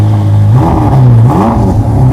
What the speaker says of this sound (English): how loud is this engine in stock form?